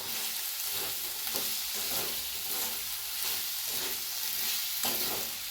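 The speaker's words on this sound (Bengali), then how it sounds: "এটা কষা বেশ কিছুক্ষণ নেড়ে চেড়ে কষে নেব" Potatoes and onions fry in a pan while being stirred, for a village-style snail curry: a steady sizzle runs throughout, with a few soft scraping strokes. No voices are heard.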